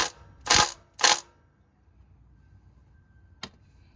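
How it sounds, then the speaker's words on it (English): A 3/8-inch ratchet wrench works a 14 mm oil pan bolt on a 2021 Toyota Corolla with two sharp metallic clicks close together, quiet for a moment, then a third click. "You just want to slacken the bolt."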